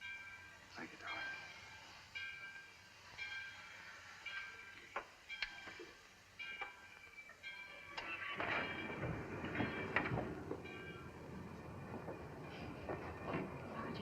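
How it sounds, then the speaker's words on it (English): A moving train rumbles and clatters steadily through the whole stretch, with rhythmic wheel clicks and occasional sharp metallic knocks, the rolling noise swelling louder in the second half, with no clear talking. "the train's moving"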